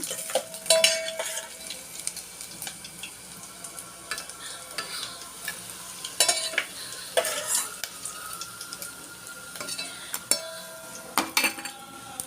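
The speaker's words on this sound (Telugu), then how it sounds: "డ్రై ఫిష్ వేస్తున్నాను. ఇవి కొంచెం బాగా వేగాలండి." Dry fish fries in a pan for a cucumber curry, a soft steady sizzle broken by repeated sharp clinks and scrapes of a metal spoon stirring against the pan.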